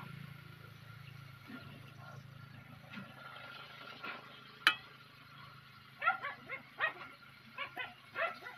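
Several dogs bark and yip in short, close bursts near a kitchen where pork adobo is cooking, with a cluster of sharp barks toward the end over a low steady hum.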